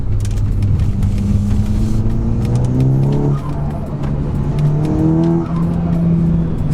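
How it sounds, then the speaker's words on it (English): Stage 2 tuned Audi S3 with a 2-litre TFSI engine, loud and close: a steady rasping engine note sweeps upward and downward in pitch as the throttle lifts off, with intake whoosh and crackle throughout. "I'm sure I've never had one with intake sound as good as that."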